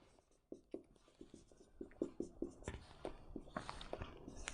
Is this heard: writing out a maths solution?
yes